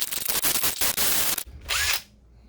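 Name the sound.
drilling into handguard, making shavings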